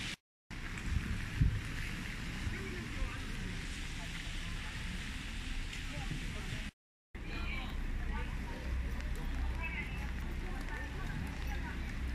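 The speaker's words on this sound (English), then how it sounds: "We're going to take the boat." Boat crossing to Nami Island on a rainy day, a steady engine and water rumble with wind buffeting the microphone, continuous and close, briefly cutting out twice.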